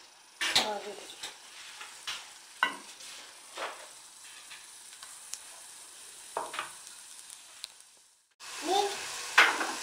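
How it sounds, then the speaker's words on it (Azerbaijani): Milk oladi pancakes fried in a pan over a medium gas flame: a soft, steady sizzle runs throughout, broken by scattered spoon scrapes and clinks against the pan, with a louder clatter near the end. "Və hər iki üzünü yaxşı-yaxşı qızardırıq."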